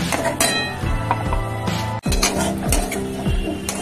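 Ground spinach is stirred and cooked down in a metal pot, with a steady sizzle under repeated scraping and clanking of a spoon against the pot, close and fairly loud.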